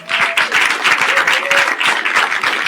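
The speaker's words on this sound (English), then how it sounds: "So how about a round of applause for our panel?" Steady applause from an audience, dense clapping that fills the whole stretch at an even, fairly loud level.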